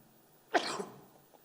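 A single short, sharp sneeze bursts out of a quiet room, then fades.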